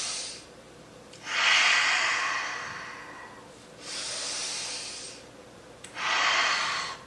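Deep, slow yoga breathing close to the mic: three long, airy breaths of about two seconds each, separated by short quiet pauses, with no talking.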